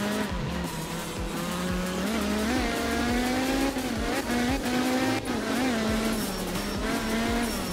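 A rally car in the video game art of rally, driven on a dry stage in Japan, with a steady loud engine note rising and falling through gear changes, punctuated by tyre squeal and skidding throughout.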